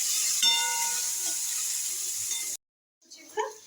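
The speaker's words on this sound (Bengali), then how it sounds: "আমার পেঁয়াজ ভাজা হয়ে এসেছে" Chopped onions frying in a pan with a green chilli, heard as a steady close hiss and sizzle for about two and a half seconds that cuts off abruptly, then a few faint kitchen sounds.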